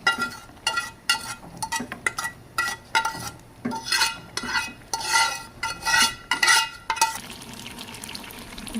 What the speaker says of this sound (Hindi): अच्छे से डालने के बाद इसे फिर हिलाते रहना है।